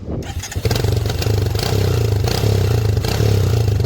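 A damaged Honda motorcycle engine kicks into life after a short scrape, then settles into a loud, uneven, lumpy idle that pulses rhythmically close to the microphone.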